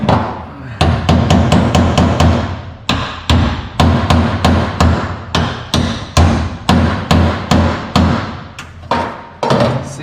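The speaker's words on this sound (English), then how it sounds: "see how that broke the weld?" Repeated sharp metallic strikes ring out at a steady, fairly quick rhythm as tack welds are knocked loose on metal, each hit loud and close with a short decay.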